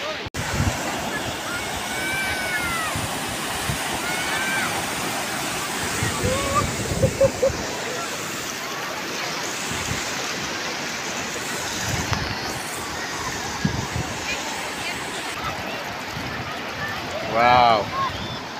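Sea waves wash onto the beach at New Digha, a steady broad surf roar with rolling swells heard throughout, a breeze brushing the mic and faint voices in the background.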